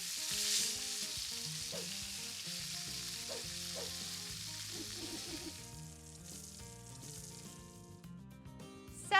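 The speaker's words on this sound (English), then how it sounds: "I am gonna cook this chicken for probably 3 or 4 minutes on the first side" Chicken sizzles in a skillet, a soft, steady frying hiss close by, with some music playing underneath throughout.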